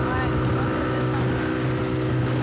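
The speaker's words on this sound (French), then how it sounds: "le Zodiac qui fonce" An inflatable Zodiac motorboat roars steadily at speed at sea, its engine drone mixed with rushing water and wind buffeting the microphone.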